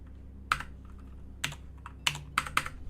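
Computer keyboard keys being typed at a workstation, a few sharp clicks in an uneven burst, close and fairly quiet, with no voices.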